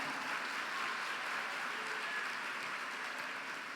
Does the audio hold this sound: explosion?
no